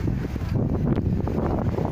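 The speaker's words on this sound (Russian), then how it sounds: "достаточно ветрено у моря" Steady wind buffeting a microphone at the Crimean seaside, a continuous low rumbling roar with gusty fluctuations, fairly loud throughout and with no voices.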